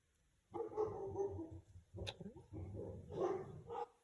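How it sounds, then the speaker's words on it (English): Dogs bark in a run of loud, close woofs and yips, a brief sharp crack breaking the sequence midway, with no talking. "The dogs wanted to say goodbye."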